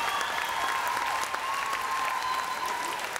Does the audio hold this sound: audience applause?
yes